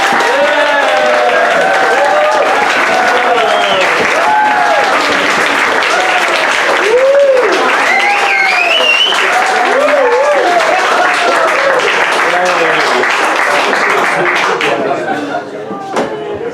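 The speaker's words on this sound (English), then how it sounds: "A round of applause, please, for the Nock brothers, Bill and Andy Nock." Loud, sustained audience applause for the Nock brothers, Bill and Andy, with many voices and cheers rising over the clapping before it thins out at the end.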